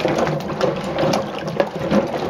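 Black walnuts tumbling and clattering together while being cleaned, mixed with wet sloshing; a continuous dense rattle of hard shells with irregular knocks, fairly close and steady.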